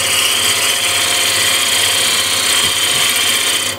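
Walnut spins on a wood lathe while the tool peels off shavings, giving a loud, continuous close-up hiss over the steady motor hum, with no talking.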